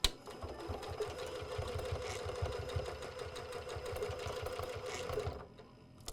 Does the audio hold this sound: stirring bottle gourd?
no